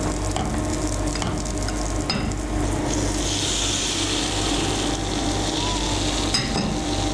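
Stuffed pancake batter frying in a pan, a dense continuous sizzle up close with occasional light scrapes and taps from the utensil.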